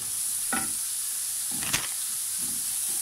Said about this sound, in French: Et là on va cuire ces oignons pendant environ, on va dire 5 minutes.